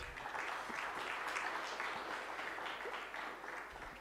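A steady round of audience applause fills a postdoctoral fellow seminar hall, dense clapping from many people holding at an even level for a few seconds before easing slightly.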